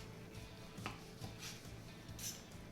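A knife slices through tender cooked meat from a Kamado Joe Classic II grill, giving a few faint soft cuts and light taps on a board, quiet and close, without talk.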